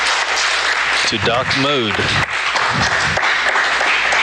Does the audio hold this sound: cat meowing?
no